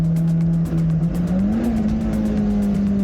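A Honda car's engine drones steadily at high revs on a mountain touge road, a loud, sustained tone that climbs slightly in pitch and holds near the limiter.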